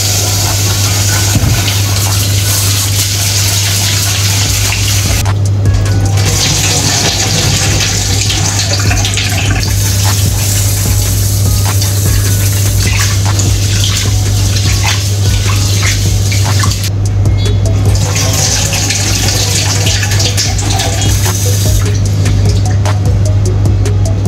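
Water runs into the pot of a new rice cooker in a continuous loud, hissing stream lasting well over twenty seconds, with a steady low hum underneath and brief changes in the flow.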